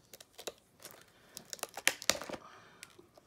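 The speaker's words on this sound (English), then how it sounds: "Just needs a little tear. A strong tear." A Funko mystery mini package is torn open by hand, with a quick run of sharp, close crinkling and ripping bursts of plastic and foil.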